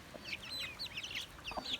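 Young chickens cluck and peep in quick, high chirrups while pecking at watermelon rind and cucumber, several birds close together in a short, busy burst.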